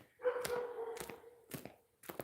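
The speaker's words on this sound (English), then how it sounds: "Nobody wants to hear your barkity barking." A dog gives a few sharp, spaced barks and yips, quiet and somewhat distant, with short pauses between each burst.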